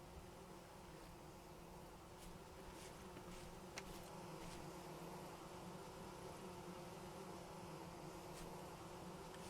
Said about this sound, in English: So, let's see if we can find these bees.